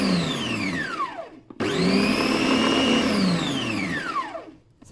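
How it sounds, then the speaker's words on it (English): A food processor blitzes a pastry mixture, its motor winding up to a loud steady whir, cutting out briefly, then spinning up again and running down; close and unaccompanied by talk. "I'm going to give this a little blitz in the mixer"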